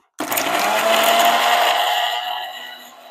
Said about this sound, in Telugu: ఇప్పుడు నేను ఒక్కసారి ఈ పచ్చిమిరపకాయ రుబ్బుతున్నాను